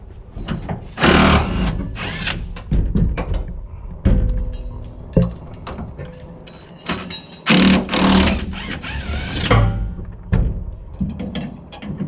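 An impact wrench rattles in loud, repeated bursts of hammering as it loosens the stock suspension bolts on a Toyota Tundra, with short pauses between runs and no talking.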